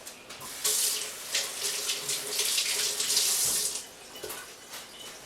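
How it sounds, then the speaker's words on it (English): Running tap water splashing over hands at a sink, a steady close rush with shifting spatters as the hands move through the stream, easing off near the end. "let me rinse my hands first."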